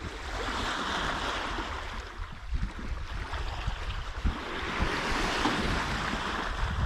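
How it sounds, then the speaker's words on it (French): Gentle water sloshing and lapping steadily against a boat hull at the bow, with a soft wind rush in the background and no voices. "On a un bruit du clapot très sympa sur l'eau."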